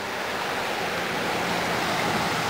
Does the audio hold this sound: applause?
no